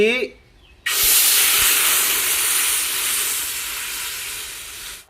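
Coconut milk hits a hot pan with a sudden loud sizzle that keeps hissing steadily for several seconds, easing off slightly toward the end.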